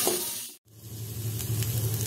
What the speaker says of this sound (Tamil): பச்சை மிளகாய் மற்றும் ரம்பா இலை இவற்றையும் போட்டு நல்லா வெசக்கி எடுத்துக்கலாங்க